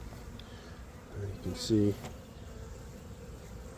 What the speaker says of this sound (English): Yeah, there's a lot of bees in here.